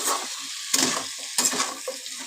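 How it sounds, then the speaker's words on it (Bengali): Okra and potato curry being sautéed with spices, cumin and sugar in a pan: steady close sizzling frying broken by several sharp bursts of spatula stirring and scraping, with no voices. "এবার ভালো করে কষাবো এটাকে মশলার সাথে"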